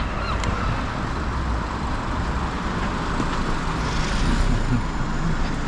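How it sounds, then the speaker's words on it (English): Cars passing along a main street in Niddrie, Edinburgh, a continuous roar of road traffic with vehicles rolling by close and steady, swelling slightly near the end. "Hear these cars."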